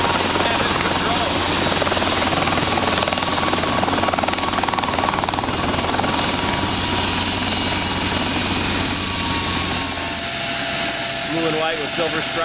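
A Mosquito XET helicopter, a light ultralight-type machine painted blue and white with silver stripes, flies close by with a steady, loud engine and rotor drone that holds throughout and eases slightly near the end.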